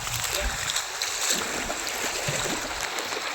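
Floodwater from heavy night rain flowing into a house and kitchen, a continuous rushing, splashing wash with faint voices underneath.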